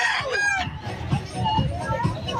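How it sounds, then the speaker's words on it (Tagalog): Chickens at a pet market in Malabon: clucks and a crowing call ring out amid busy market noise, with people talking nearby. "At iba namang klaseng manok yung dala nila ngayon."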